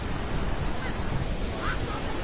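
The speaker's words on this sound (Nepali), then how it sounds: "खोला हेर्नु गाइस खोला" A flooded river in Nepal rushing past in a loud, continuous roar of churning water, with wind buffeting the microphone throughout.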